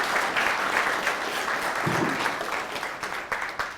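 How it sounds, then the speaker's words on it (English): An audience applauds steadily for almost four seconds, a dense and even wash of many hands clapping at moderate loudness with no talking over it. "I want y'all to give yourself a round of applause"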